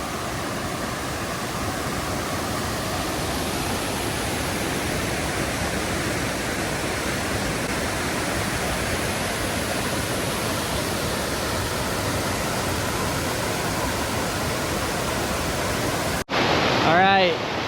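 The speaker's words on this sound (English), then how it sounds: "Made it to Laurel Falls." Laurel Falls on the Appalachian Trail roars as a loud, continuous rush of falling water that fills the scene evenly for a long stretch before cutting off abruptly near the end.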